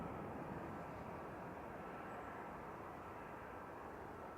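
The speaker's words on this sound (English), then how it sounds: "it sounds like a plane's taking off" A steady, broad roar of a jet engine, loud and unchanging throughout, like an airplane powering up for takeoff nearby at Manchester Airport.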